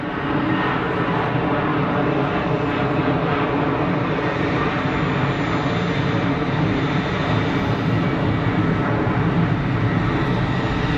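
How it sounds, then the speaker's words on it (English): An EasyJet airliner lining up for departure at Geneva Airport produces a continuous, loud, broadband jet engine roar with a low rumble. It holds steady throughout, with no speech. "EasyJet lining up for departure."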